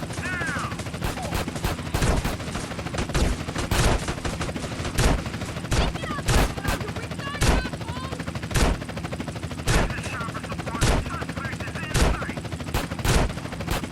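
Shotgun and other gunfire in Grand Theft Auto: The Trilogy, a steady barrage of sharp, loud blasts about once a second over game background noise, with shots and chatter crowding each other for the whole stretch.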